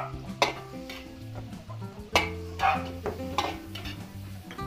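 Onions sautéed in a pan, a low sizzle under repeated stirring and scraping of a utensil against the cookware, with a few sharper clinks.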